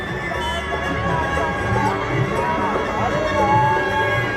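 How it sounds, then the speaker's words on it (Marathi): A dense, steady crowd cheers and shouts at a riverside ghat during the Narmada Jayanti festival, with many overlapping voices, some of them children, making an unbroken, loud festive roar. "जिकडे म्हणजे जिकडे तिकडे जल्लोष"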